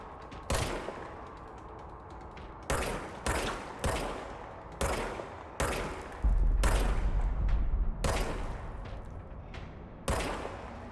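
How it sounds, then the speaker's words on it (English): Service weapon gunfire in the PS5 game Control: about nine sharp, loud shots spaced irregularly over the span, each with a short echoing tail, plus a sustained low rumble partway through. "Fire service weapon."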